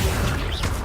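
A brief Accio summoning spell cast in the video game Hogwarts Legacy: a dense magical whoosh and rush under steady game noise, lasting under a second.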